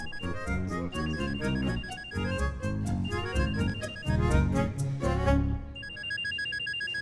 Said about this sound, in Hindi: कोई अननोन नंबर है, कहीं मानव तो नहीं? उठाओ उठाओ